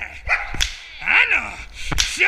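A dog barks and yelps in short, sharp bursts close by, with rising whiny tones between them, while people shout excitedly over it.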